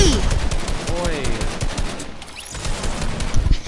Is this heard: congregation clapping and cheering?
no